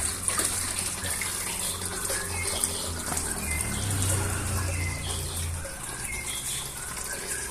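Water pours and gushes steadily into a koi pond filter chamber, entering from the top and exiting below, a continuous splashing rush close by with a low rumbling undertone.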